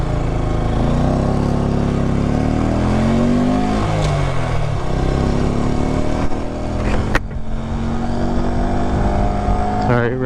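A Honda Grom motorcycle carrying a passenger accelerates, its engine note climbing and dropping through gear changes under heavy wind buffeting, loud and close throughout.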